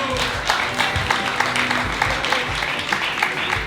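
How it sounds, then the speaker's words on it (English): Audience applause for two players on day four of a 10K Omaha High-Low poker event at the WSOP, brisk rhythmic clapping from a modest crowd, steady and close throughout. "A big round of applause for both these players today."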